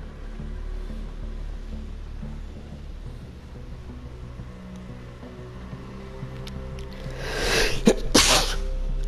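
A single sharp sneeze near the end, preceded by a quieter sneezing burst, over low ambient outdoor rumble while walking.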